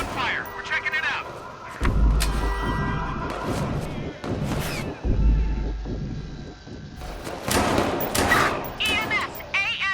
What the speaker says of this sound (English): Squad, we hear gunfire.